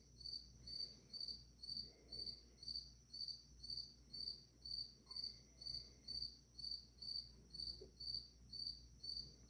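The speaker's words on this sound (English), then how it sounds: "You hear the cricket again?" A single cricket chirps in a steady repeating pulse, about two trills per second, faint and close, against quiet low background hum.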